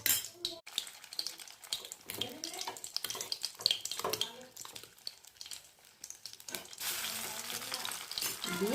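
Chicken pieces fry in hot oil in a wok for chilli chicken, giving a close, crackling sizzle with spattering pops that grows denser and louder toward the end.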